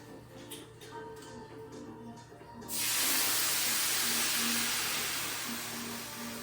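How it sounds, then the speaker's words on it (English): Wine poured into a hot pan for deglazing sets off a sudden loud, sustained sizzling hiss that fades slowly over several seconds, after quieter kitchen sounds. "We're gonna deglaze this guy with some way too expensive wine to deglaze with."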